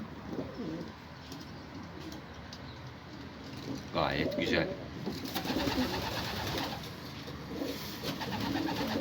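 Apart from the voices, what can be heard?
pigeons cooing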